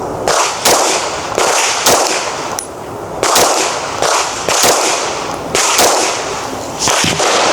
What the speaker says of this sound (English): I'm about to shoot at some steel now